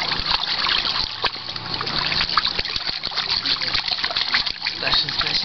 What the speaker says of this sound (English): Splash and splash and splash.